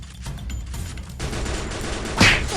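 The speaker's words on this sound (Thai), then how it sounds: "ข้างหน้ามียิงครับ" Gunfire in the Free Fire battle royale game: rapid bursts of shots crackle through a steady din of game noise, ending in a sharper, louder burst near the close.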